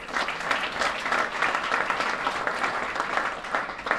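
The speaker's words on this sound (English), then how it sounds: "Let's give another round of applause." Audience applause at an awards gathering honoring a mayor, a steady, full wash of clapping from a large crowd lasting several seconds, slightly distant and even throughout.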